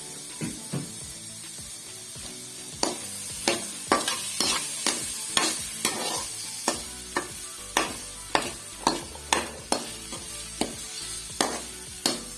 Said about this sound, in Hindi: मसाला भूनेंगे अच्छा सा, इसमें टमाटर भी डालेंगे